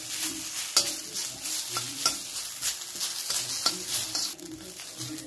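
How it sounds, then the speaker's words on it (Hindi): Curry leaves roasting over medium heat in a kadhai for chutney, giving a steady crackling sizzle with repeated stirring scrapes and clicks, close and continuous with no voices. "ये जो हमने करी पत्ता को रखे थे साफ करके, तो इसे हमें भूनेंगे।"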